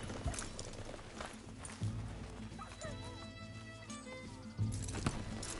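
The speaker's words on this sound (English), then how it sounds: "Just get back on the horse" Horse hooves clip-clopping at a run in the video game Red Dead Redemption 2, quiet rhythmic thuds mixed with game ambience, a snort or whinny and brief character speech.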